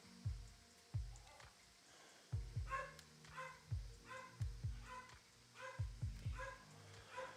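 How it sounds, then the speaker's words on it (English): Several dogs bark in the background, faint and somewhat distant, as a series of short, uneven bursts spread across the stretch. "I'm sorry about the dogs barking."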